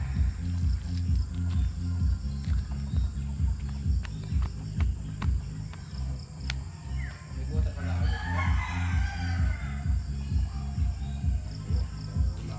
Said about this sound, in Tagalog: Manok ko, oh. Lalaki ng mga manok.